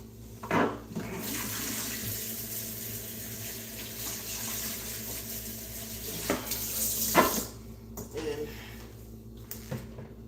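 Water from a kitchen tap runs into a cooking pan while spicy Japanese BBQ chicken is being prepared, a steady flow with a few brief clatters and bumps as a person talks nearby.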